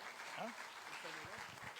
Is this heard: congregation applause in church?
yes